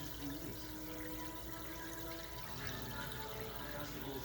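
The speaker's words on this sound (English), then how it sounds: "The only noise is coming actually from the little spray bar." Water from an aquarium canister filter, an UN Delta 60 hang-on-back unit, splashes out through its spray bar: a soft, continuous trickle, faint and even throughout.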